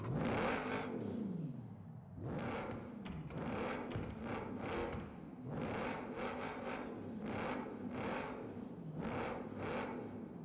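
An Audi RS7 engine in the racing video game Forza Horizon 4 revs repeatedly, rising and falling in steady loud surges with gear changes, a continuous roaring drone with no talking.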